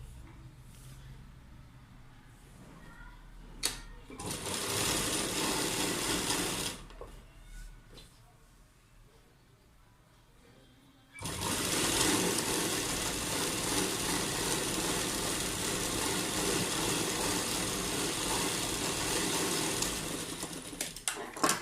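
A sewing machine stitches the seams of a lined loose palazzo in bursts: a few seconds of steady whirring, a pause with small handling noises, then a long unbroken run of stitching up close.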